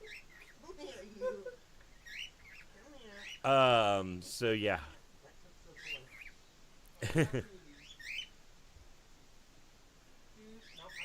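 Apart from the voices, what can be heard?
birds chirping nearby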